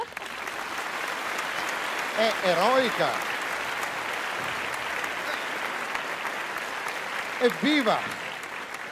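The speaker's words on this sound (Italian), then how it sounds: "Un applauso." An audience at a music competition final applauds continuously in a steady, broad wash of clapping, while a voice calls out over it briefly twice.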